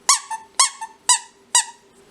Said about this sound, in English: It's just a squeak toy.